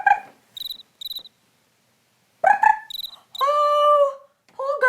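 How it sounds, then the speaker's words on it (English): A fall field cricket gives short, clear, high chirps in separated bursts, with gaps of silence between them. Squeaky tonal calls of some other kind stand out alongside the chirps. "call of the fall-field cricket."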